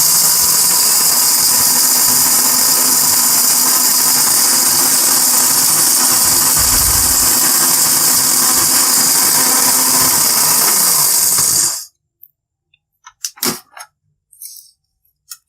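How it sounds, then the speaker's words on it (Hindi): A kitchen grinder pulverises chickpeas into powder with a loud, steady whirring roar that runs for about twelve seconds, then cuts off abruptly, leaving a few faint clicks and knocks. "चनों को आपने अच्छी तरह ग्राइंड करना है ताकि इसका पाउडर बन जाए।"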